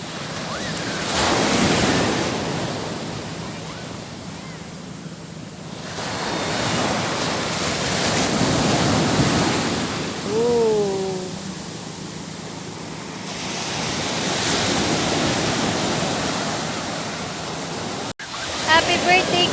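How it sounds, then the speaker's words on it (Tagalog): Ocean waves surge and crash on a beach in repeated swelling washes of broad surf noise, loud and close with wind buffeting the microphone; people talk and call out faintly in the background. "Ang maligalig na alon."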